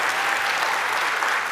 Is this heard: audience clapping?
yes